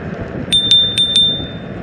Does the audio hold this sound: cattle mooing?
no